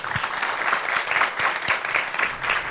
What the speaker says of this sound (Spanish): pedirle un aplauso para ustedes mismos